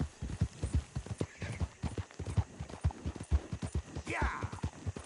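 A horse gallops hard in Red Dead Redemption 2, its hoofbeats a fast, steady, close clip-clop that runs throughout, with a brief whinny-like cry rising near the end.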